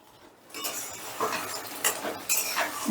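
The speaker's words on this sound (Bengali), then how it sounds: "এবারে গ্যাসের আঁচটা আমি মিডিয়ামে রেখে আবারও মিনিট দুয়েকের মতন কষে নিচ্ছি" Masala for a katla fish kalia being stir-fried in a pan over medium heat, a spoon scraping and clattering against the metal in uneven strokes over a faint sizzle, no talking.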